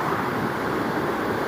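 A small waterfall in Greece near Mount Olympus gives a continuous broad rushing roar of falling water, steady and fairly close, with no voices.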